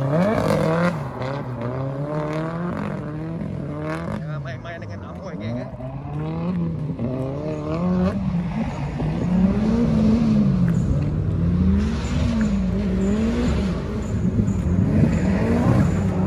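An old-school Toyota KE70 drifts with its engine revving up and down repeatedly, the pitch rising and falling in waves as the car swings through the slides at close range.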